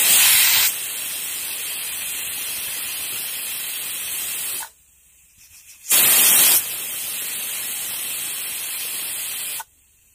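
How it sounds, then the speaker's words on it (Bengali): Pressure cooker holding chicken khichuri on a medium-to-low flame lets out loud, steady steam whistles, two long hissing bursts each several seconds long, separated by a brief quiet gap, close and with no voices. "প্রেসার কুকারে ঢাকনাটা বন্ধ করে মিডিয়াম টু লো ফ্লেমে 2টা সিটি দেওয়ার জন্য অপেক্ষা করতে হবে"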